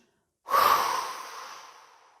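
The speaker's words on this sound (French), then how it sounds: "vous allez relâcher en soufflant par la bouche" One long, slow exhale blown out through the mouth during a relaxation breathing exercise: a close, breathy rush that starts abruptly, then gradually fades away, heard alone in quiet.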